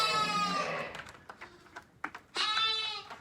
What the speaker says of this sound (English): You hear those lambs in the background going